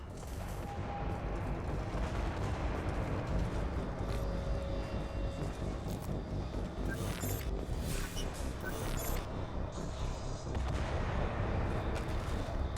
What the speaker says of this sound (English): Those canisters by the door are going to blow.